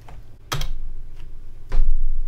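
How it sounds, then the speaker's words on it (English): Keys clack on a computer keyboard as a URL is entered, a few separate close keystrokes with low thumps and no speech. "So go ahead and type your URL"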